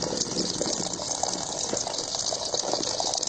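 Water runs in a steady, loud gush while kneaded flour dough is rinsed under it, a constant splashing wash with no pauses.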